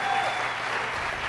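A church congregation claps together in a brief, dense burst of applause, steady and fairly loud from start to finish.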